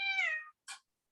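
A cat gives one clear, close meow that falls away, followed by a brief softer chirp, then quiet, with no talking.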